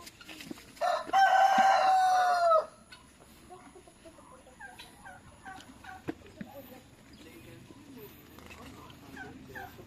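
A rooster lets out one loud, drawn-out crow near the start, followed by quieter scattered clucks and bird calls at a fowl and peacock exhibit.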